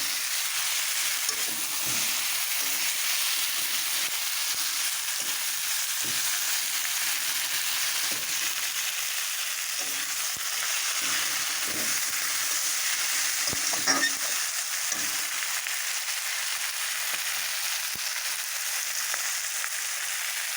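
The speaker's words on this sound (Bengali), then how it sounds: "এখন দিয়ে দিলাম আমি ভেজে রাখা মাছের মাথা। সব কিছু এখন একসাথে আমি ভালোভাবে কষিয়ে নেব।" Fried catla fish head sizzles in a pan as it is sautéed with turmeric and spices for moong dal, a steady close frying hiss broken by soft stirring scrapes.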